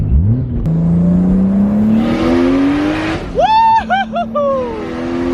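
A car accelerates hard in a pull from second gear, its engine note climbing steadily and loud, then easing as the revs drop and change, with brief whooping voices near the end.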